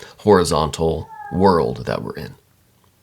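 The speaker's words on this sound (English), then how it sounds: "I'm sorry for the cat." A cat meows in a short, rising cry between stretches of a man's close speech, heard clearly in a brief gap in the talking.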